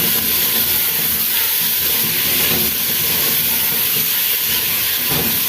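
Potatoes and green peas sizzle and hiss steadily in hot oil as they go into a traditional Pakistani aloo matar curry, a loud, continuous frying roar with no talk.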